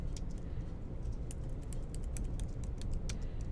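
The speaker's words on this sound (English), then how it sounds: "And now I type git push" Rapid close clicking of computer keyboard keys as a command is typed, a dense uneven patter of keystrokes throughout.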